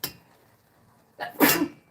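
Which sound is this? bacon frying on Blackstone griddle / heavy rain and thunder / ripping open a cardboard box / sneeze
sneeze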